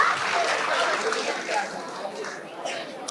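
Applause from an audience at an awards event for a woman recipient, broad and steady from start to end and fading slightly near the finish, with crowd murmur mixed in.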